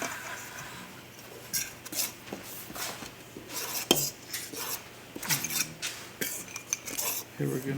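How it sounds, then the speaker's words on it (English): Utensils stir and scrape through scone dough of einkorn flour, baking powder and salt in a bowl, a steady run of close clinks and scrapes against the bowl with no talk. "So we're just gonna mix that together."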